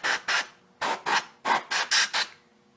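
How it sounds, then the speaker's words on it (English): Canned air sprayed into a smoke detector on a Notifier fire alarm system: seven short, sharp hissing bursts in quick, uneven succession, close and clear against quiet. "I just like to take a canned air and spray it out just a little bit"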